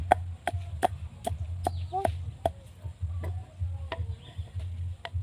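Chickens give soft, scattered clucks at close range, mixed with a regular sharp ticking and a low steady hum in the background.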